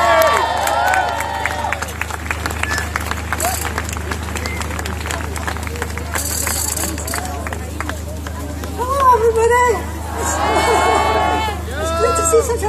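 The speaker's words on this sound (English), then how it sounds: "Such a huge crowd" A large outdoor crowd gathers at the unveiling of the Mary Barbour statue, a constant murmur of many voices with scattered shouts and a swell of cheering toward the end, while people talk nearby.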